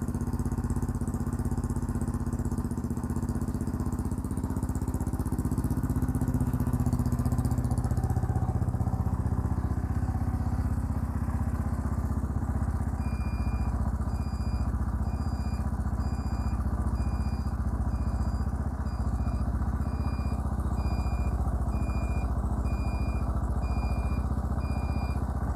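A custom classic BMW motorcycle with a single-muffler exhaust runs steadily at idle, a continuous low mechanical drone with a faint clatter, heard close and alone for the whole stretch.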